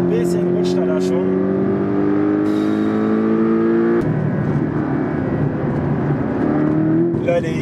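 A Porsche engine pulls hard on a race track near Malaga, its tone climbing then dropping at a shift before building again, loud and continuous with tire noise.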